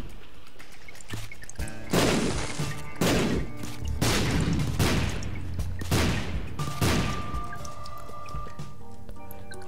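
Repeated blasts from The Binding of Isaac: Afterbirth, with Lilith playing a Dr. Fetus and Ipecac run, five loud bursts at roughly one-second intervals over a steady game background, no talking.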